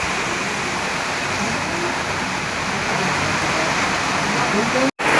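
Heavy rain pours down outdoors after a storm, a loud, steady, dense roar of water that fills the whole clip without letup, broken only by a brief dropout near the end.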